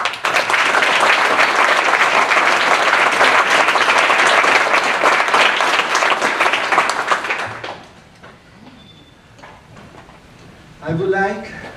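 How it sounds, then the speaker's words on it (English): An audience at a physics department commencement applauds its graduates with loud, dense clapping for about seven seconds, then it dies away into quiet room noise and a brief voice. "I would like to offer a great applause to our graduates."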